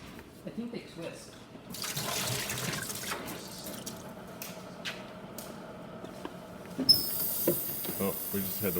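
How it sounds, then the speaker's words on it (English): Hot water hisses and runs steadily from a machine with a scale-clogged hot water function, a continuous flowing rush at moderate level, with people talking over it and a brief sharp hiss near the end. "Oh, we just had to wait for the hot water to get hot enough, and then the light lights up. I didn't know that. And there we go, hot water."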